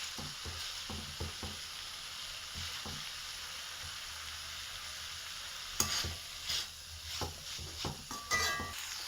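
Bitter gourd thoran with green chillies stirred in a pan, a soft steady sizzle underneath and a run of sharp utensil scrapes and clinks near the end, close by with no talking.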